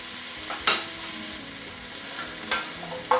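Chopped onions and peppers fry in a pan under a steady soft sizzle, with a few sharp spatula scrapes and stirs punctuating it, heard close up and without talk.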